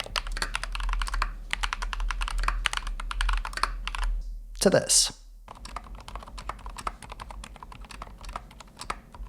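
Typing on a Keychron K2 Pro, a 75% hot-swappable mechanical keyboard: rapid, close clacking keystrokes in bursts, a brief pause with a short louder clatter midway, and a few spoken words.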